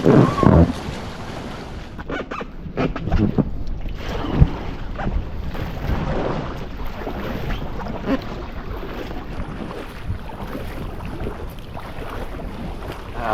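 A waterfall in a dangerous gorge while gold prospecting, a steady broad rushing roar of falling water close to the microphone, with buffeting wind noise and no talking.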